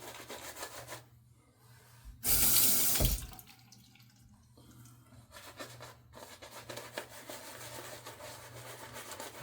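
Tap water runs into a sink in a short loud burst while a shaving brush is wetted for a head shave, with quieter rubbing and trickling before and after.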